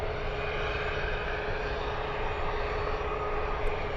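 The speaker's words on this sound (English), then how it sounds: "Speedbird flying back to Heathrow, king of the skies." British Airways airliner passing overhead near SFO, heading back to Heathrow, a steady faint broadband engine roar that holds evenly throughout without voices.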